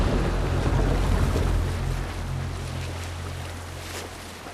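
Viking longship under sail at sea in Assassin's Creed Valhalla, a steady rush of wind and water with a low rumble that slowly fades, no speech.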